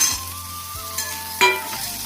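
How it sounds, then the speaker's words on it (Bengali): Vegetables with onions and cumin seeds fry in a wok of oil left over from frying fish, giving a steady close sizzle with a few sharper stirring scrapes. "হালকা করে ভেজে নেবো।"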